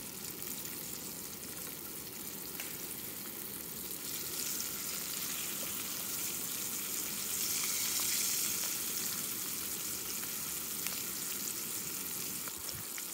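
Pieces of bluegill fry in a pan of oil, a steady broadband sizzle with soft crackles running continuously and evenly throughout, with no talk over it.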